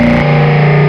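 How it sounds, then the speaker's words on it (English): A Behringer TD-3-MO synth runs through guitar pedals as a loud, distorted, buzzing tone with a strong resonant filter, and the pitch drops abruptly partway through before holding steady. "I mainly used the character of the filter when opening and closing with a lot of resonance."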